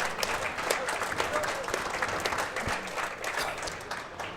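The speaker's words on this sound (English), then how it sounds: "give him a round of applause" Audience applause at a bowling tournament finals, a moderately distant, steady patter of clapping from a crowd in a large hall, sustained evenly throughout.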